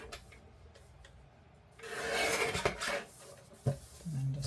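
Paper for an envelope journal cover being trimmed gives a close, steady rasping cut. Lighter rubbing and tapping come before it, and a few sharp clicks follow.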